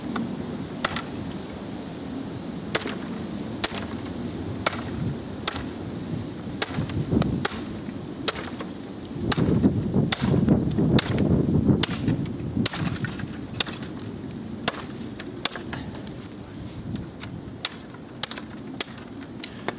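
Sharp chopping strikes from an ESEE Junglas knife land about once a second in a steady rhythm against thick branches outdoors, over a constant rush of wind.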